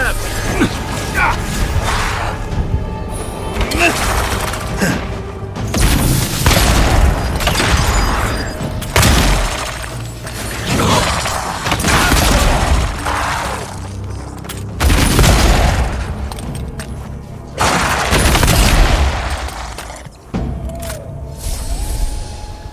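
Dense, loud video game gunfire and booming blasts in Avowed, continuous volleys and heavy thumps layered with whooshes and mechanical noise, with a voice faintly mixed in.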